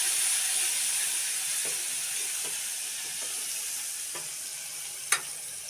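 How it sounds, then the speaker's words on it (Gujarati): Tomatoes and chilies sizzle in hot oil for an onion curry, a steady hiss with a few soft stirring clinks and one sharp tap near the end, close and alone. "હવે નાખી દીધા ટમેટા અને મરચાં બે મિક્સ."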